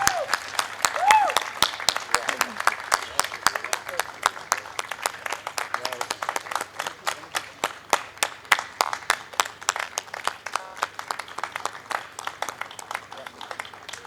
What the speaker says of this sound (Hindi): और जोरदार तालियां हो जाए एक बारी फिर से